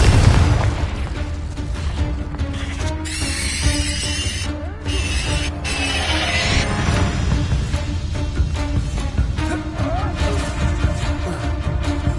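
In the video game Hogwarts Legacy, the Confringo spell sets off fiery explosions: dense, loud booms and bursts roll almost continuously under layered game effects and music.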